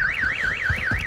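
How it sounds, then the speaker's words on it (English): Car alarm in the video game Warzone, a loud close electronic siren sweeping up and down in a fast regular wail, heard alone. "Car alarm, you're gonna relax, mate."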